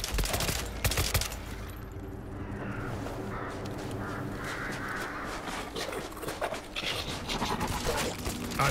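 Heavy weapon gunfire in the World War Z video game roars in a sustained, dense barrage with a few sharper cracks early on, loud and continuous with background game noise.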